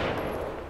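Gunfire in Arma 3 sounds as a dense, loud roar of shots blending into a continuous rattling burst.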